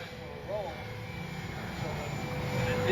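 RC model FMS Cessna 182 airplane doing a touch-and-go on a runway in wind, its engine a steady near drone that swells slightly toward the end, with brief voice-like tones in the background.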